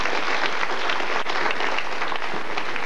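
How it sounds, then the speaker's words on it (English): An audience at a stage hypnosis show breaks into applause, a continuous, fairly loud patter of many hands clapping without a pause for a few seconds. "Give them all a round of applause."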